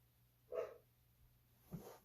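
A dog at home gives two faint, muffled barks about a second apart, heard from some distance in an otherwise quiet indoor room with a low steady hum and no speech.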